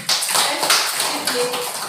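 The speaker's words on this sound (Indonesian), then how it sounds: "Tepuk tangan untuk Frankie." A classroom of students claps for a classmate named Frankie, a short burst of close, fairly loud hand claps in a loose uneven rhythm lasting about two seconds.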